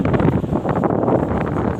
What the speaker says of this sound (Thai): เสียงพัดลมดัง